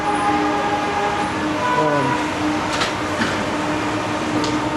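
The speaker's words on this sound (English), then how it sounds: "This is what SkyTrain looks like." An elevated Vancouver SkyTrain passes with a steady mechanical hum and whine, a loud continuous rumble with faint clanks near the end.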